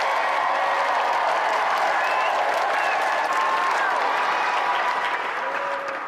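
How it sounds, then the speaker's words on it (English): A studio audience applauds loudly and steadily at the close of a show, with a few cheers rising above the dense clapping before it starts to fade at the very end. "let's have a final round of applause"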